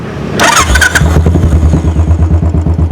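A Royal Enfield Classic 500 motorcycle engine, modified in Sportster style, cranks and catches, then settles into a loud, close, rhythmic idle with steady throbbing pulses.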